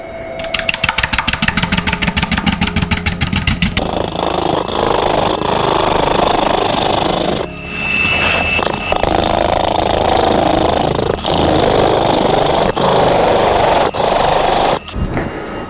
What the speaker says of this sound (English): this, by the way, is a bowl gouge